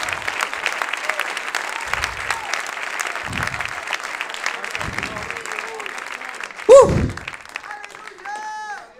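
A church congregation applauds in praise, a broad wash of many hands clapping over several seconds, with a loud thump near the end and faint voices as the applause trails off.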